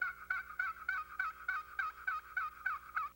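A wooden box turkey call is stroked back and forth to imitate a hen turkey, about ten evenly spaced raspy yelps in a steady rhythm, close and fairly quiet.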